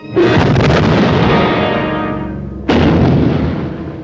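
A torpedo strikes a ship and explodes in a 1951 submarine war film, a loud, close, rolling blast that slowly decays before a second heavy explosion bursts in, with no talk.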